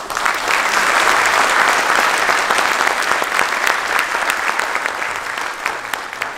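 A live audience breaks into sustained applause at a public speech, dense and steady clapping filling the hall for several seconds with no talking over it.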